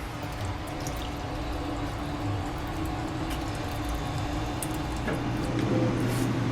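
Water poured from a bottle outdoors partway through a run, a steady liquid trickle lasting several seconds under constant wind and ambient noise.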